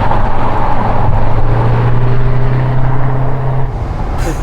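V8 engine of a 1980s Mercedes 500 SEC heard from inside the car while driving, a loud, deep, smooth burble with a low hum that rises briefly and then eases off near the end.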